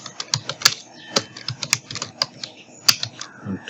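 Quick, close computer-keyboard typing during Photoshop banner design: irregular bursts of crisp key clicks with a few louder taps, and no speech.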